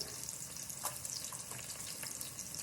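A handful of peppers stir-frying in a pan gives a quiet, steady sizzle with a few faint clicks and ticks, heard alone without speech.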